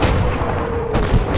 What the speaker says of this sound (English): The artillery guns like First Barrage